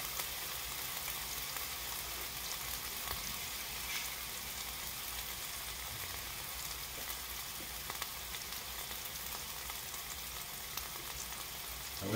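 An Oklahoma onion burger topped with American cheese sizzles on a flat griddle, a steady, faint hiss of frying that runs unbroken, with no talking.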